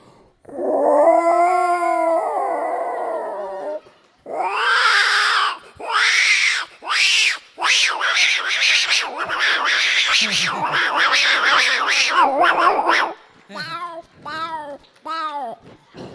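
A voice imitates two cats fighting during a religious storytelling discourse, with loud, drawn-out yowls followed by a string of harsh, rising screeches and shorter wails, delivered alone without speech.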